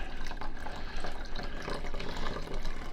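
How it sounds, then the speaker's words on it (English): Water pouring steadily into a seed sprouting jar, a continuous close splashing and gurgling fill with no voices. "we're gonna go ahead and start them out by pouring water in here"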